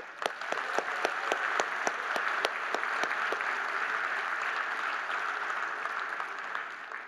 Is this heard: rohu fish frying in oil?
no